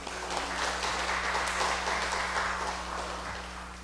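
Applause from a church congregation at the close of a Sunday worship service, a dense, steady wash of clapping that fills the room and slowly tapers off toward the end, with a low hum underneath.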